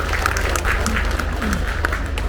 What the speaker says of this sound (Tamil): ஒரு பலத்த கைத்தட்டு கொடுங்கள்